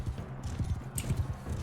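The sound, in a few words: horses galloping in a jousting tournament, from a video game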